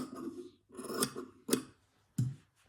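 Scissors trim quilt fabric in four quick, close snips, each a crisp, rasping cut separated by short pauses.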